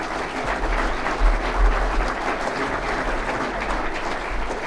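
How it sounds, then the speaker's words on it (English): Loud, steady audience applause at an apprenticeship awards ceremony, a full crowd clapping continuously with a low rumble underneath. "So let's have a massive round of applause for Erin."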